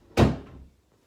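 A single solid thud comes as an indoor door is shut close by, followed by a short fading rumble and then quiet.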